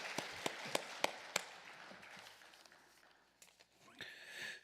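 Church congregation applauding to welcome a pastor at a fasting prayer retreat, heard as a few sharp, spaced claps standing out over a quiet room, then fading into faint rustle and low murmur.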